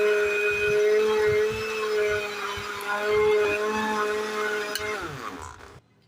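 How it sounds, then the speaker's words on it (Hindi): An electric blender grinds watermelon, black pepper and ice into juice, a steady loud motor whine with tonal hum and irregular chunky knocking that runs about five seconds, then winds down and stops. "अब ब्लेंडर में हमने सारा कुछ डाल लिया, तो अब इसको हम अच्छे तरीके से पीस लेंगे।"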